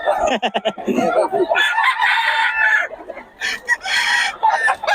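Chickens and roosters at a poultry market in Bocaue, with loud, close crowing and clucking from several birds overlapping, plus some background voices.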